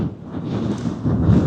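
Low, rumbling buffeting of wind blowing across a microphone, steady and loud with gusty swells, no speech.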